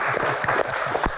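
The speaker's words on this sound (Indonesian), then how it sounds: "Tepuk tangan." Studio audience at a Q&A talk show applauding after a box is opened, a short burst of clapping lasting around a second and fairly close.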